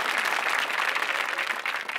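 Audience applause fills the whole two seconds, a dense, steady wash of clapping at even loudness on a comedy stage show, with no voices over it.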